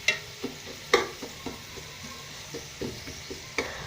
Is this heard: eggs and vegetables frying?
yes